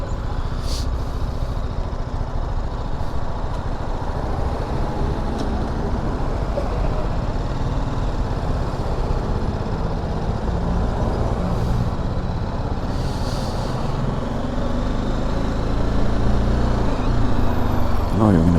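Steady road traffic with cars and trucks rumbling past, a continuous broadband roar with occasional brake hiss, heard from within a vehicle while someone talks over it.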